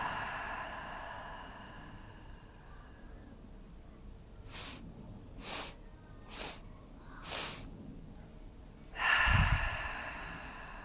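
Breathing during a yoga exercise, with four short, quick inhales through the nose followed by one longer, forceful exhale, all soft and close against a quiet room.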